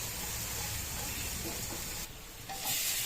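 Onion and garlic sizzle steadily in hot ghee as a tempering for spinach dal khichdi, a continuous close frying hiss that briefly dips and then rises again.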